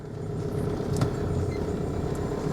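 An old car driving out of town on the way to a fishing trip, a steady, moderately loud engine and road rumble heard from inside the cabin, with no talking.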